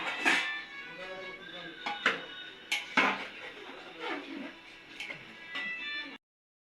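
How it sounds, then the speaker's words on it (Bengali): Fried potatoes go into a pot of mutton gravy with scattered metallic clinks and knocks of utensils against the pot, close by, while a person talks. "ভেজে রাখা আলু দিতে ভুলে গেছিলাম"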